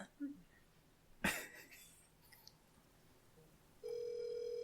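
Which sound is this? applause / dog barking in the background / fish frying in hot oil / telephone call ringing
telephone call ringing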